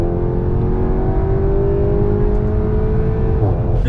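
A SEAT Leon Cupra engine revs loudly and steadily up close, its pitch climbing gradually with a brief dip near the end as it shifts gears.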